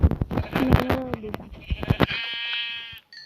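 Sheep bleat in short, wavering calls in Minecraft over busy clicks and game-like effects, with a bright tonal chime near the end.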